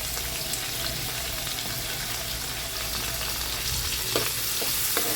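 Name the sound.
onions frying in a pan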